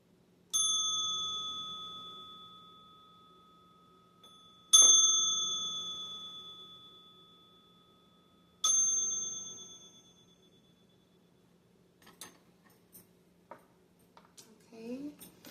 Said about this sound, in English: I'm going to be ringing that bell now in 3, 2, 1.